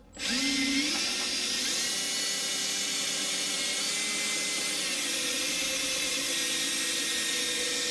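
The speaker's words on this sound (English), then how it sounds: "sometimes the drill will get jumpy, so you want to control your speed" A handheld electric drill sanding a headlight whirs loudly and steadily, spinning up at the start and holding a constant high buzz with slight pitch shifts, no voices.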